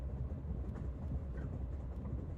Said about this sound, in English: The sounds of a running train. the wheels of fate chugging along.